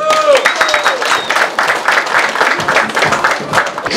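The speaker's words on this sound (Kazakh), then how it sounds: "ордаға сіздердің осындай шапалақ қошеметтеріңізге Марат ағамыз шақырайық ордаға." Audience applause fills the hall at a tournament opening held as a traditional youth celebration, a dense, steady wash of clapping that continues throughout.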